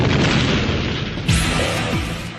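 Loud wartime bombing blasts from an Allied bomber raid over Germany's Ruhr valley: a continuous heavy rumble with two deep booming impacts, the second striking about a second after the first, with no voices.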